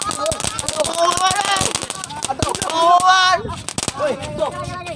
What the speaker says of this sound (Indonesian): Waduh, pada main petasan